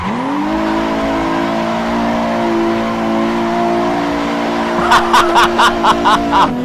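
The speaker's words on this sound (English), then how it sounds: "Really nice engine sound as well" A Nissan GT-R Nismo racing car engine in a drifting video game hums at a steady high pitch, then a burst of rhythmic pulses near the end as it revs and shifts.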